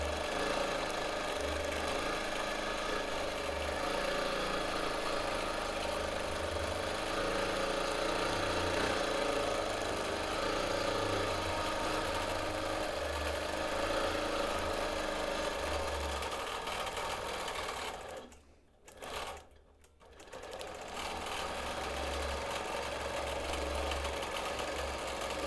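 A quilting machine stitches straight lines with its thread skipping and about to break, a close, steady rhythmic drone of needle strokes that briefly stops near the end, then resumes.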